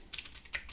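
A web search typed on a computer keyboard: a short, quiet burst of a few quick key clicks in an uneven rhythm, heard alone.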